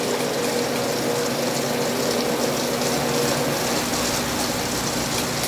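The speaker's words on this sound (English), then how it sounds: "Now we're in the spin cycle." A Panda PAN50SW portable washing machine on its spin cycle gives off a constant broad whooshing whir with a steady motor hum, loud and unbroken with no talk.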